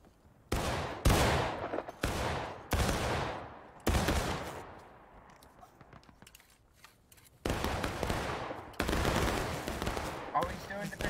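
Musket volleys crack out in the Civil War video game War of Rights, loud, close and overlapping, in several sharp bursts of rolling gunfire separated by brief lulls with quieter distant shots.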